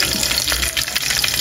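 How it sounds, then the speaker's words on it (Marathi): Curry leaves crackle and spit in hot oil in a pan while chicken masala is being cooked, giving a brief, dense burst of close frying sizzle with scattered pops. "कढीपत्ता चांगला तडतडला आपलं मस्तपैकी।"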